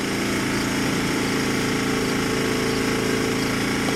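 A Sportsman Series 3500-watt inverter generator runs steadily at about 23 feet away, a constant droning engine hum with an even, unbroken level and no speech over it.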